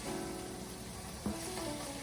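Pound of sausage browning in a pan for a breakfast casserole, a soft steady sizzle running throughout with a brief louder clink of a utensil midway, no voices.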